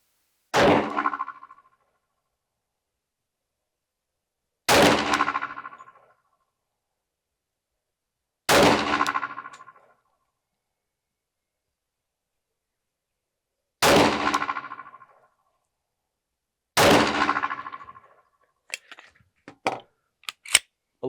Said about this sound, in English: We shoot 5 more rounds just to get a feel for this.